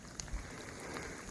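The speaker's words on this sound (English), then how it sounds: "So it is raining." Rain falls steadily in a wooded ravine in maple sugaring country, making a faint, even patter of drops on leaves and ground with a few slightly louder taps, and no voices.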